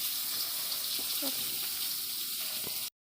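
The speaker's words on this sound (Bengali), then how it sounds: "পড়ছে বৃষ্টি দেখেছ ঝমঝমিয়ে পড়ছে বৃষ্টি" Heavy rain pours down outdoors as a steady, even hiss, with a few faint knocks and drips in the background before the sound cuts off abruptly.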